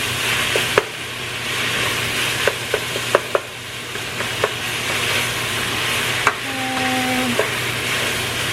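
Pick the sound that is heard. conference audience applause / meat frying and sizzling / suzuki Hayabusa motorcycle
meat frying and sizzling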